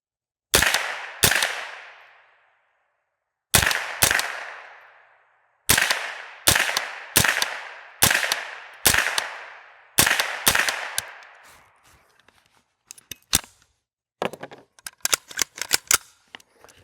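Suppressed .22 Magnum rifle shots through an Innovative Arms SlingShot Ti titanium silencer on a longer barrel: about nine sharp, close cracks in spaced pairs and singles, each with a short fading tail, followed by lighter mechanical clicks and clatter.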